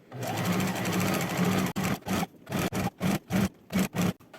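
A sewing machine stitches elastic onto fabric for a pair of shorts, first in a long continuous run, then in a series of short, regular bursts with brief pauses between them, close and clear.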